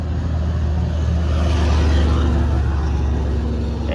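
A dump truck goes by on a nearby road, giving a steady, loud engine and tyre rumble that holds for several seconds without a clear rise or fade, and no voices.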